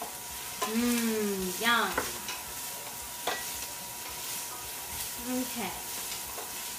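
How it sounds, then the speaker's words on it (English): Cajun trinity vegetables sautéing on an induction burner while jambalaya is cooked, a soft steady sizzle with occasional stirring scrapes, and a young voice speaks briefly over it early on and again near the end. "now that I have sauteed my Trinity in my induction burner"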